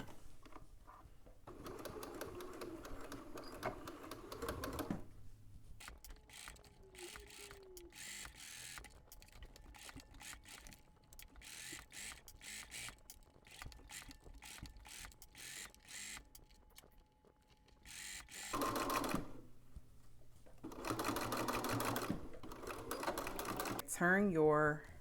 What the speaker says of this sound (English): we're going to stitch right over those existing stitches on our piping